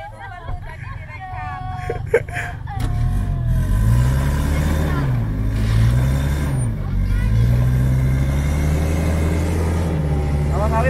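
Off-road vehicle engine on a picnic trip to Jabal Arba', loud and steady with rising and falling revving, stuck while backing out, with people talking and calling out over it.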